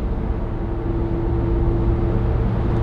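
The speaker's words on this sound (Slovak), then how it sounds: "teraz som napríklad na diaľnici, idem 120 a na to, že to je teda elektroauto, tak je tu celkom dosť hluk" Tesla Model 3 Performance electric car driving on a motorway at 120 km/h, a steady loud cabin drone of road and tyre noise with a faint constant hum, continuous and without talk.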